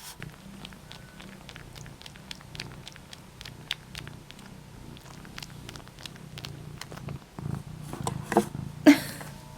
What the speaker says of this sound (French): Si vous pouviez entendre les ronrons qu'elle fait.